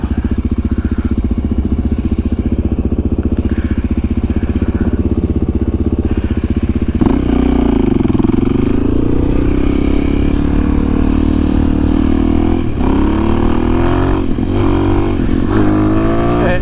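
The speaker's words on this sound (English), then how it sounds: "Engine brakes so hard I can't even fucking pop it up." A Suzuki DRZ motorcycle engine, a bike with a massive oil leak, runs loud and close throughout, with a steady low drone that shifts pitch midway as the engine brakes hard and the revs fall and rise.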